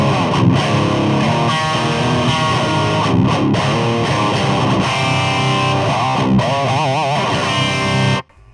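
A Dime electric guitar, heavily distorted without a boost pedal, playing chords and riffs loud and continuous, with some wavering bent notes near the end before cutting off abruptly.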